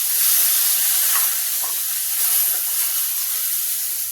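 Jackfruit pieces and potatoes fry lightly in a pan, producing a steady, fairly loud hissing sizzle with no voices.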